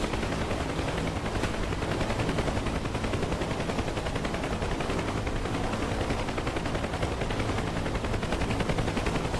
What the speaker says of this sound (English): Firing AAA at him now.